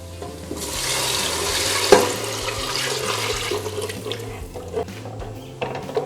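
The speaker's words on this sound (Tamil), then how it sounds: "இப்போ எந்த கப்பால நீங்க அரிசி எடுக்கிறீங்களோ அதே கப்பாலே 2 கப்பு தண்ணி ஊற்றிக்கோங்க." Two cups of water poured into a pot for coconut milk ghee rice, a steady close splashing stream that fades into lighter trickles and a few clinks.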